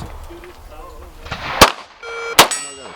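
Gunfire at an outdoor shooting range: two sharp, loud, close shots about a second apart, each with a brief ringing tail, over quiet background voices.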